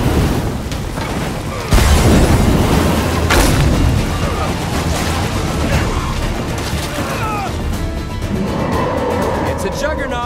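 A State of Decay 2 explosion erupts with a heavy boom amid ongoing loud game noise in a zombie-infested lethal zone, followed by rumbling debris and scattered impacts, dense and close throughout.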